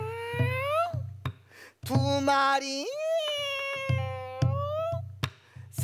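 A performer's voice imitates a cat at a Korean traditional music concert, giving several drawn-out, rising and falling meows in a row over a low steady accompaniment, with brief spoken counting between them.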